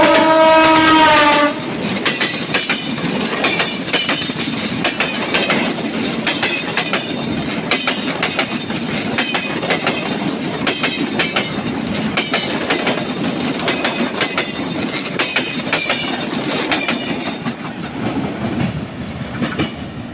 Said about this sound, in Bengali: তো এই যে ট্রেন।